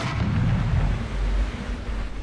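A tank cannon firing in the video game War Thunder, a deep booming blast followed by a low rolling rumble that fades over about two seconds, with no speech.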